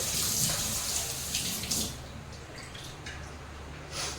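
Cleaned sardines are rinsed under running tap water, giving a steady, soft splash and rush with a few small sloshes and drips, fairly faint and close.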